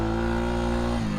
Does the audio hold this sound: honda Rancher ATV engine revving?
yes